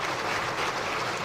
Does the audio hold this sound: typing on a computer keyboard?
no